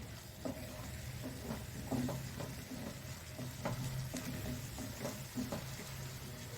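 Palak paneer spinach stirred and frying in a pan, a steady close sizzle with regular spattering pops and scraping stir strokes repeating every second or so, with no talk.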